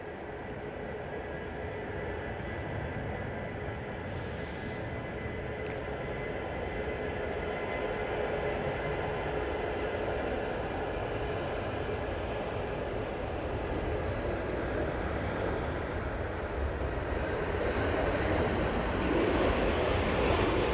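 A Ryanair jet departs Manchester Airport, a broad, steady roar that holds at a distance and grows slightly louder over twenty seconds, with no talking.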